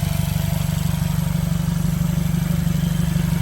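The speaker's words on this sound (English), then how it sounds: "It sounds like there's a vacuum leak somewhere back here in this area." A 2015 Mercedes CLA 250 4matic idles with a vacuum leak and no exhaust fitted, giving a loud, close, raw engine note with a rapid, even pulsing and no voices over it.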